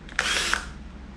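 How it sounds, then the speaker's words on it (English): A drill spinning a Q-tip to clean the float of a 1996 Honda Z50R carburetor whirs up in a short high burst, about half a second long, then winds down, close and alone. "I use a little Q-tip on a drill, and cleans it off real good without being abrasive."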